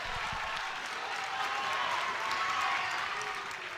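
A home crowd in a high school gym claps and cheers after a wrestling takedown, a steady wash of applause that rises a little and holds throughout.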